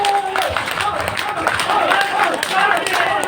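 An audience claps steadily at a speech during the Mandaikadu Bhagavathi Amman temple festival, a dense patter of many hands under a background of crowd noise.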